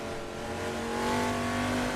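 A 500 BHP Shelby Cobra engine pulls hard on the Nordschleife circuit, a sustained loud revving roar that climbs steadily in pitch as the car accelerates, with no voice over it.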